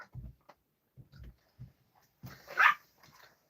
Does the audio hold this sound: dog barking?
yes